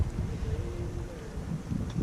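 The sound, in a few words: wind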